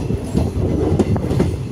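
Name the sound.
15603 Intercity Express train entering Bokajan railway station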